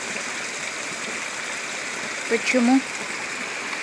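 Spring water in a forest flows steadily as a container is filled outdoors, a constant trickling wash running throughout with a brief spoken word partway through.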